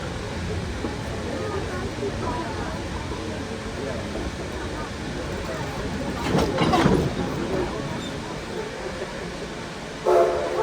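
A narrow-gauge excursion train on the Yosemite Mountain Sugar Pine Railroad rumbles and grinds as it slows to a stop, with a brief squeal midway and a short tonal squeal or whistle near the end, over steady low rumble.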